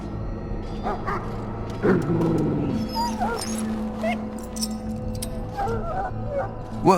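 A dog whimpering in Dragon Age Origins, a run of thin, high, wavering whines and soft cries over a low ambient drone, with a louder burst partway through.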